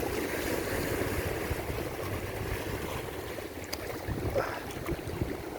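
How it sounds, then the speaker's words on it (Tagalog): Strong sea waves surge and wash around a boat off a rocky shore at Dao, Antique, a steady loud rush of water and wind with no talk. "Ang lakas ng alon, lakas ng alon guys."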